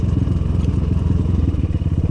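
An Apollo 250RX dirt bike, a 2020 Honda-clone 250 single, putters along with a rapid, steady low thumping exhaust pulse, close and loud, with no voices.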